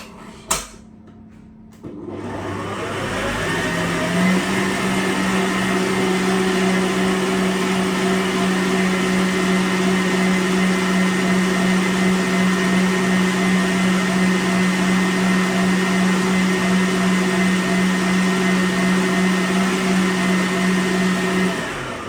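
An electric hand mixer with beaters whisks vanilla cake batter in a steady, loud motorized whir with a strong steady hum, starting after a brief clatter and running continuously for about twenty seconds, no talking.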